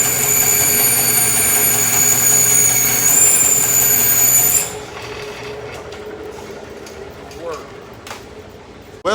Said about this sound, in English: Well, the bandsaw wouldn't cut it